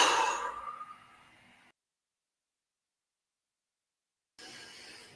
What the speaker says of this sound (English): we're going to take a nice deep cleansing breath in through the nose and out through the mouth